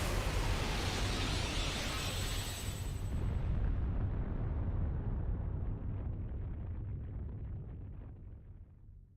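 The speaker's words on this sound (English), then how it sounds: "He charged the soul cannon." An animated soul cannon charging and firing, heard as a loud, dense roaring blast that rumbles on steadily and then slowly fades out over several seconds.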